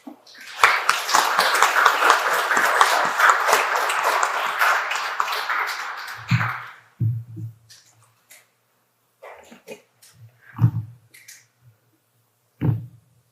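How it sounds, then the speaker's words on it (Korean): An audience at an academic symposium applauds to welcome a priest presenter: about six seconds of dense, steady clapping from many hands that stops abruptly. A few sparse low thumps and faint sounds follow. "이명준 신부님을 박수로 맞아주시기 바랍니다."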